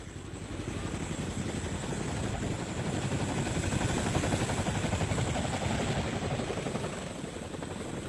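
Helicopters flying over a besieged area, their rotors making a steady, throbbing drone that swells slightly toward the middle and then holds at moderate distance, with no voices over it.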